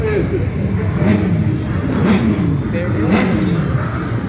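A motorcycle engine revs repeatedly at a motorcycle meet in Imbé, Rio Grande do Sul, loud and near, rising and falling in waves with crowd noise and a voice mixed in.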